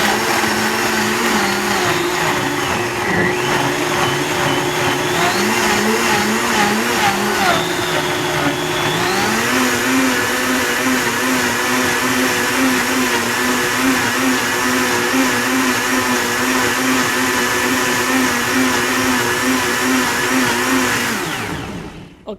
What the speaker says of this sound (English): second time I'm gonna blend it very smooth